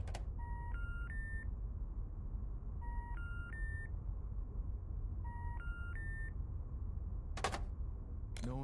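Electronic phone dialing tones inside a horror video game, three repeated bursts of short stepped beeps spaced a few seconds apart, followed by two sharp bright clicks near the end, over a faint low hum.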